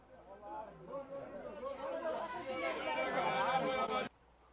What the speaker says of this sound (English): for the cityscape, I use the sound of like a market